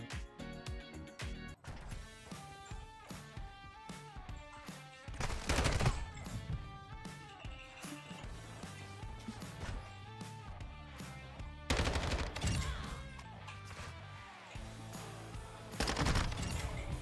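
Video game gunfire from different weapons, rapid automatic bursts and shots layered over game music, with louder volleys breaking in periodically, no talking.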